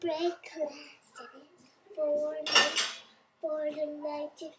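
Dishes and cutlery clatter in bursts as a dishwasher is unloaded during morning chores, with one loud clattering crash midway; someone talks and sings over much of it.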